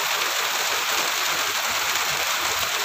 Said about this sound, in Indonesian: Hujan lebat, guys.